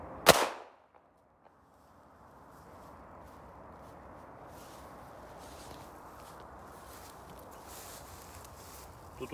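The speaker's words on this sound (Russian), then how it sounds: "Сейчас еще раз стрелю." A 9 mm traumatic pistol fires once at a Lexus windshield, one sharp, loud crack right at the start, followed by a long stretch of low, steady background noise.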